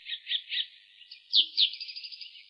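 Birds chirp in the King's Quest III Redux video game, a run of bright, quick tweets and trills repeating steadily across the moment with no talking.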